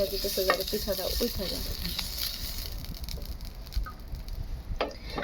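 Oil sizzles and crackles steadily in a kadai while pitha is being made, a soft, continuous frying hiss close by, with a voice talking over the first couple of seconds.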